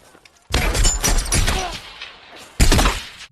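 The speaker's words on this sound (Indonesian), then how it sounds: "Lalu tembakan-tembakan pun mulai menyerang Danny dan kawan-kawan" A loud burst of rapid gunfire lasting about two seconds in a firefight, followed after a brief pause by a second short, sharp volley.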